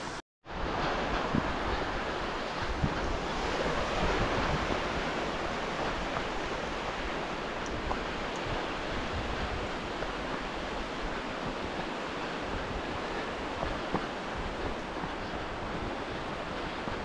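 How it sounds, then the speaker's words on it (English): Multnomah Creek rushes along a forested trail near Multnomah Falls outside Portland, Oregon, a steady broadband roar of flowing water heard continuously and fairly close, with no voices over it. "So maybe this is Multnomah Creek."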